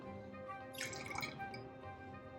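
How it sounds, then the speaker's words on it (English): Pomegranate juice is poured into a cocktail, a brief soft liquid trickle and drip about a second long, faint and close with a quiet background hum. "I need to add a little bit more of this pomegranate."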